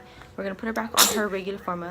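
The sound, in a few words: sneeze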